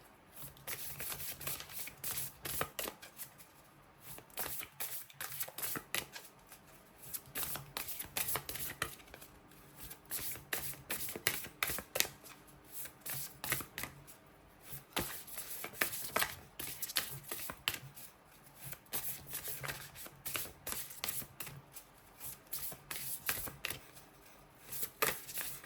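A deck of tarot cards is shuffled close up by hand, with repeated soft riffling and slapping bursts in an uneven rhythm that continues throughout, quiet and alone.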